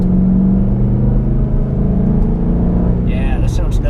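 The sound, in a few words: stock 2012 Ford Mustang GT engine accelerating out of corners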